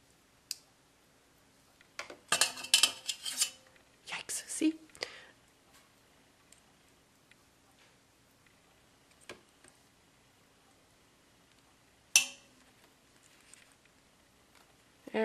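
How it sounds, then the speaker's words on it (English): Long craft wire clicks and taps against metal tools while being coiled into a spiral, with quiet clustered bursts of rattling and scattered single ticks over near silence. "My wire's really long, it's hitting everything."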